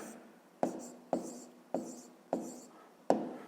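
Five sharp taps of a pen or pencil on paper, spaced roughly half a second apart, as a math answer is written out by hand, each stroke followed by a short scratchy trail in a quiet room.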